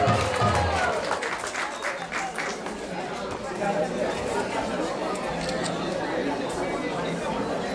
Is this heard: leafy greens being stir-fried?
no